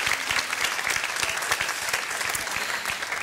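Studio audience at a televised Swedish bingo lottery show applauds steadily, a dense, loud sustained clapping with no voices over it.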